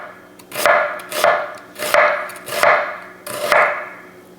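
A knife cuts thin slices of red onion on a board, with five evenly spaced crisp chops, each a sharp slice ending in a knock, heard close and alone at a steady rhythm.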